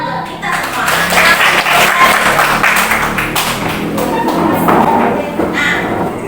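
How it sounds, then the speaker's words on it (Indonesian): A group of students claps together in a classroom, a loud continuous patter of clapping that lasts several seconds, with voices talking over it. "Beri tepuk tangan untuk kita semua."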